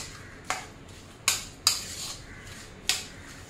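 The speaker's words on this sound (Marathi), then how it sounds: "छान अशी मिक्स करून घ्यायची आहे" Flour dough being mixed in a bowl, four sharp clinks of a utensil against the bowl spread over a few seconds, close and fairly quiet.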